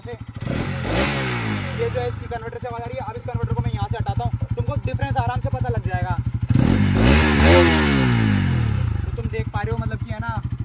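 A Bajaj Pulsar RS200 motorcycle with its catalytic converter removed revs up hard twice, each rev climbing steeply in pitch before dropping back to a steady, throaty idle. It is loud and close.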